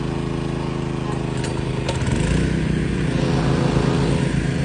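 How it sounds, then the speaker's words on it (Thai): A small 4-inch water pump engine runs steadily with a low rumbling drone, rising slightly in pitch as it is revved gently partway through, close and continuous. "ลองสตาร์ทดู เร่งเครื่องเบาๆนะ"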